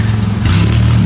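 A car engine idles and revs loudly up close, with a raspy, sputtering rumble like a leaking exhaust.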